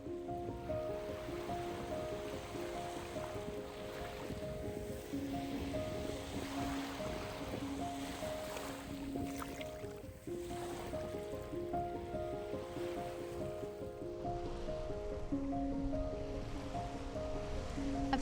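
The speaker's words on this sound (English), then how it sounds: "I don't see it yet, but I hear water." Waves wash steadily at Boneyard Beach in Florida, a continuous roar of surf heard at a distance with a low, even rumble. Sustained musical tones run underneath throughout.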